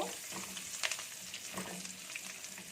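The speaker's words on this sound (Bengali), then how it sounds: "রসুন কুচিটা 2-3 মিনিট একটু ভেজে নিব।" Chopped garlic sizzles steadily in a pan, a dense crackling fry with a few louder spatters and scrapes from stirring, close and fairly loud throughout with no talking.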